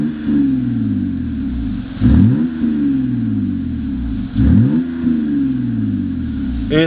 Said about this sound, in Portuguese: esse é o escapamento esportivo.